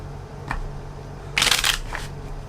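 Tarot cards shuffled by hand: a short riffling flutter after a faint earlier tap, then a softer rustle, close up in a quiet room.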